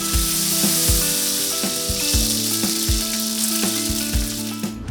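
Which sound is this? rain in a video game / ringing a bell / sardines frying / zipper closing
sardines frying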